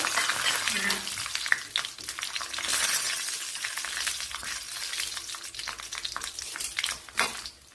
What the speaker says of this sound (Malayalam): അതിലേക്ക് കടുക് ഇട്ട് കൊടുത്തിട്ടുണ്ട് ഇതിലേക്ക് കുറച്ച് പച്ചമുളക് ഇട്ട് കൊടുക്കുക